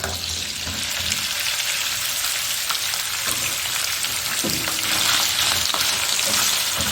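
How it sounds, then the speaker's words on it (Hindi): Mutton sizzles and crackles steadily in a hot pan with cumin, a dense frying hiss with occasional stirring scrapes, close and continuous without talk. "दो मिनट गोश्त को फ्राई करना है।"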